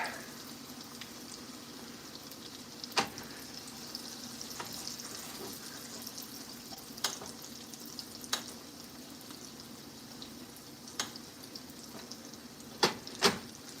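Steak sears with rosemary in a pan on max heat, giving a steady low sizzle and frying hiss throughout, broken by several sharp pops and crackles and spoon-like clinks, close and alone.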